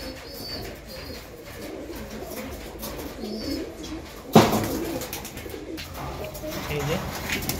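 Pigeons kept in a home loft coo softly through steady background noise, with a brief louder knock or clatter near the middle and murmuring sounds around them.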